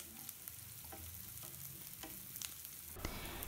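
Chopped onion and a teaspoon of crushed garlic frying in oil in a pan for a bitter gourd curry, a steady close sizzle with occasional crackles and stirring scrapes, no voices.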